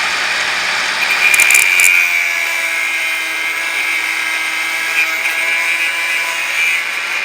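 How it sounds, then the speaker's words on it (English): An angle grinder cuts through metal on a modified battery setup, giving a steady, loud high-pitched whine that holds for several seconds with a brief rougher burst early on, and no talking. "angle grinder here"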